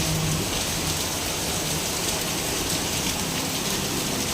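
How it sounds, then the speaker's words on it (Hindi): Heavy rain pours steadily and loudly, a dense unbroken hiss of drops on surfaces with no break across the whole stretch. "बारिश हो रही है।"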